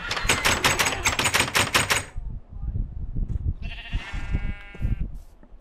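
Rapid loud clicking taps at first, then a single harmonic bleat from a Minecraft sheep later on, set over low rumbling noise and muffled thuds.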